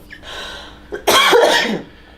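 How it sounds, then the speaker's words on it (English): A single harsh cough from someone recovering from COVID bursts out after a faint breathy sound, rough and fairly loud, with no talking. "I'm still recovering from this stupid cough."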